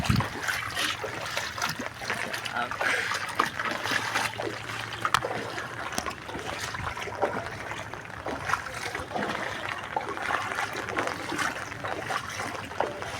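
Rainwater draining off a planted rooftop at night, a continuous close trickling and dribbling wash with scattered drips and splashes, steady throughout with no talking.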